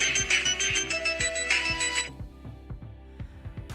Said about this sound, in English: my phone calling my son's phone, spoofing the number of my wife's phone